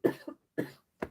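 Three short, sharp coughs in quick succession, close and fairly loud, each fading quickly with brief silences between, from someone pausing while assembling a fold-flat gift box.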